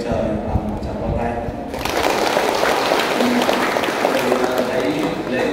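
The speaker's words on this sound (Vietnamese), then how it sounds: "Lên trời bằng một tràng pháo tay." A congregation at a Catholic vigil Mass for the Ascension breaks into applause after a brief spoken opening, a broad rattle of many hands that stays steady to the end.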